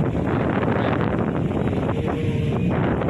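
Strong wind roars steadily across the microphone at San Fabian Beach, a loud continuous rumble, with faint water and engine noise beneath it.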